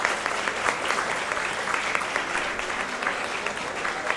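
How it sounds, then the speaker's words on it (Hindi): A lively audience claps vigorously to welcome chief guests at a founder's birthday celebration, a dense, loud, sustained round of applause with individual claps popping through. "जोरदार तालियों से स्वागत कीजिए।"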